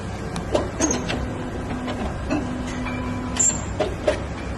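An automated hematology analyzer takes up a blood sample with low mechanical whirring, a sustained motor tone and scattered clicks and clunks, moderately close, with no talking.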